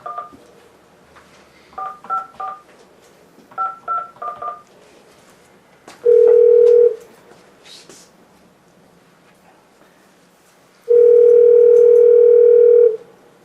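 Telephone keypad tones beep in three quick clusters, and two long steady ringback tones follow, each lasting about a second. The call is placed during a racing talk show and sounds fairly close and clear.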